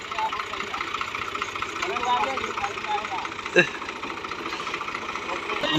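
A wheat thresher driven by a New Holland 480 tractor runs with a steady, rumbling mechanical drone and rattling vibration in Punjab, Pakistan, with voices faintly audible beneath the machinery.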